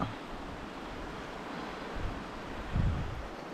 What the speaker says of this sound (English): Of course, the wind comes now, doesn't it?